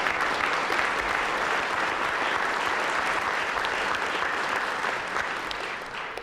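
An audience at an Ohio State University Veterans Day ceremony claps for the goal of becoming the best university for military veterans, a sustained, even round of applause from a large crowd that fades slightly toward the end.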